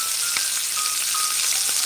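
Food frying in a pan as it forms a golden crust, with a steady, close sizzle and fine crackle throughout and no voices.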